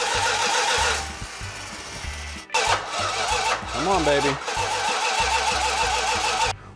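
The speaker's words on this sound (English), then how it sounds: "We had to do a few minor adjustments to get her to kick over and fire off." A 440 Six Pack V8 on an engine run stand cranks, briefly catches, cranks again and then fires into a loud, rough, steady idle, with a voice encouraging it during the cranking.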